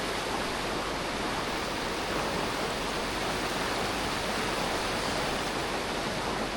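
Strong river current of the Bagsit River in Palauig, Zambales, a dense, unbroken roar of rushing water, loud and close with no pauses.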